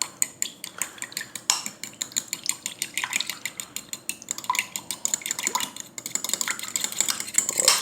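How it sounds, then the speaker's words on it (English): A fork smashes and whips butter in a bowl, making rapid repeated clicking metal taps and scrapes at an uneven, busy rhythm, close and fairly crisp, with no one talking. "here's this butter here. I'm gonna get a fork. I'm gonna kind of smash this down a little bit."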